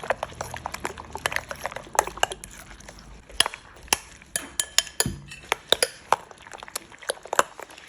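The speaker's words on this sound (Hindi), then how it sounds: "ये फिर जो है मैं अच्छे से मिक्स कर लूँगी" Breakfast batter is mixed in a bowl, with a quick, irregular series of spoon or whisk clinks and taps against the bowl and a soft wet stirring underneath, close up and with no talking.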